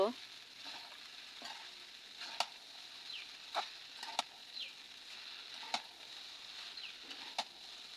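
Chowmein being mixed and fried in a pan, with soft steady sizzling and occasional sharp clicks and scrapes of a utensil against the pan, fairly quiet throughout.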